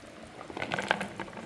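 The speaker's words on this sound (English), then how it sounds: "I'm going to put in the dumpling and I'm going to go and simmer down, drop in the ackee and the banana." A pot of dumplings, ackee and banana simmers outdoors in the rain, giving a faint, irregular bubbling and pattering with no talking.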